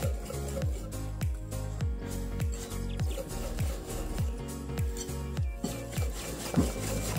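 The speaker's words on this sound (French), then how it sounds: "On mélange énergiquement, on voit bien sur les bords." Pineapple tartlet batter is whisked vigorously in a bowl, a fast regular rhythm of scraping strokes about twice a second against the sides, close and moderately loud with no talking.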